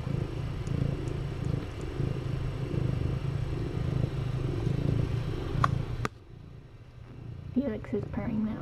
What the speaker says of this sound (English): Is purring now too.